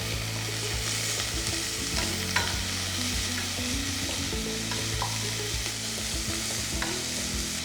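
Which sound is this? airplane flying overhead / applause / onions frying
onions frying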